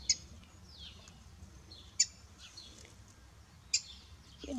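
A small bird calls near its nest of nine eggs in a coconut palm: three sharp, brief chirps spaced a couple of seconds apart, faint against a quiet outdoor background.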